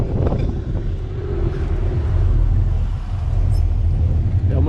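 A Corvette Z01 rolls in to park at a supercar rally, its engine a steady, close low rumble with wind buffeting the microphone throughout.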